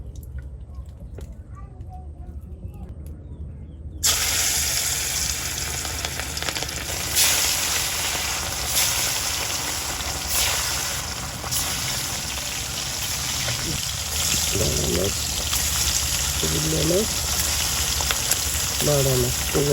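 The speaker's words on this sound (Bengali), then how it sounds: "মাছগুলো ভাজার জন্য কড়াইতে তেল দিয়ে দিচ্ছি।" Oil heats in a wok for frying fish, starting as a quiet low hum and then breaking into a loud, dense, continuous sizzle with a few sharp taps near the end.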